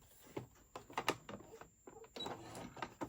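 A sewing machine stitches fabric carrot treats together in short, uneven bursts of whirring and clicking, quiet and close, starting and stopping several times with brief pauses between runs.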